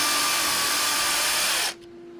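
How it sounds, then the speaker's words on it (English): Jigsaw cutting a vinyl-finished wall panel, a loud, steady buzzing whine that runs without a break and then stops abruptly, leaving a faint hum. "the teeth on a jigsaw blade are facing up and it cuts upward."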